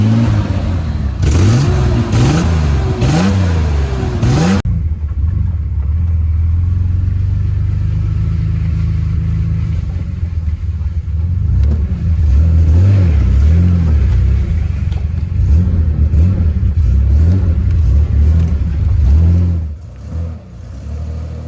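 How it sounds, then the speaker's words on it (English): A Ford Bronco II's engine cranks over with rhythmic starter whirs, catches, then idles and revs in loud, rising and falling pulls off-road, close and dominant with no talk. "Turn on the key, push in the clutch."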